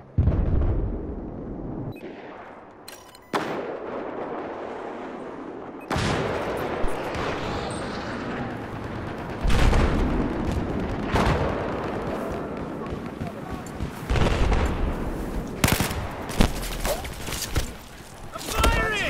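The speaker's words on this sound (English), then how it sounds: "I'm firing!" Battlefield 4 gunfire crackles in loud, close volleys of rapid shots and booming blasts, broken by short lulls and then resuming in dense clusters.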